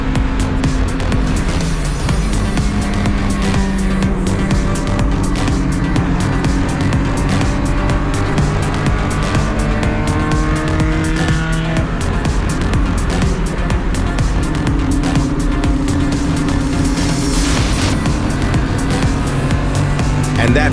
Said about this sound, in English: Here comes the race leader, lapping us on the main straight